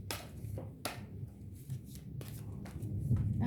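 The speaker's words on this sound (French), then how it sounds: "On va aller faire une coupe et un tirage de 13 cartes." Tarot cards are cut and shuffled by hand for a thirteen-card reading, giving quiet, close riffling bursts and soft slaps at an uneven rhythm with a faint low hum beneath.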